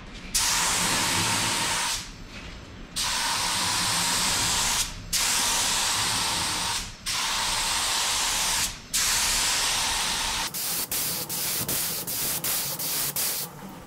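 White paint sprayed onto a station wagon hood in four long hissing passes, each about two seconds with brief gaps, followed by a quick series of short sputtering bursts, loud and close with no talk.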